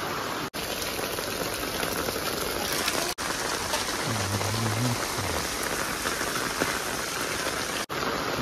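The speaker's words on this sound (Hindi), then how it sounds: "पूरा प्रबल वर्षा होचे भाई पूरा खतरनाक वर्षा होचे" Dense, steady downpour hisses loudly and continuously on surfaces nearby in a village, with a brief low rumble partway through.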